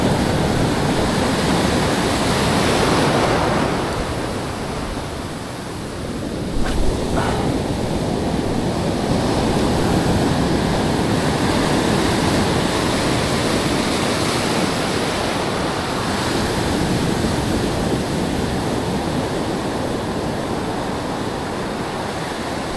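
Big ocean waves crash and roll onto a beach during shore casting on a windless day, a loud, continuous surf roar with broad swells that briefly ease before building again.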